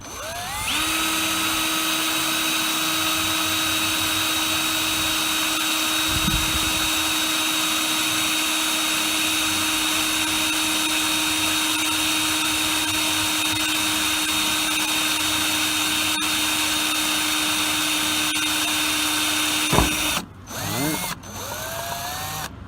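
An electric drill with a very small bit bores screw holes into a truck cab for a cab light install: a loud, steady motor whine runs for about twenty seconds, then stops, followed by a few short bursts.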